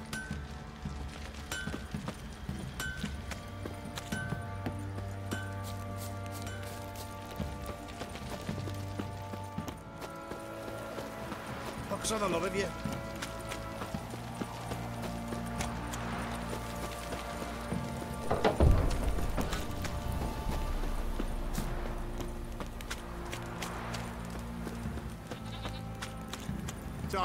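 Horses clip-clop in The Witcher 3, with hoof steps mixed among bleating farm animals, ambient game sounds and a brief spoken line.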